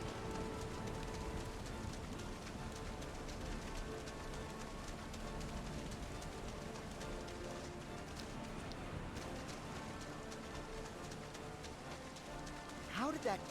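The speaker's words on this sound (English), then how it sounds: "Oh, it's still raining here." Steady rainfall patters in the video game Kingdom Hearts, a continuous soft wash of drops on surfaces at low level, with a brief chirpy sound near the end.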